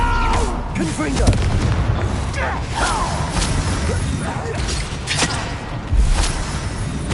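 A Confringo fire blast spell explodes during Hogwarts Legacy combat, with loud booming bursts and crackling impacts layered over busy battle effects.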